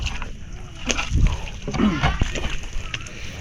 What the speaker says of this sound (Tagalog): ito kami sa ilog ito po yung ilog ng palanghiran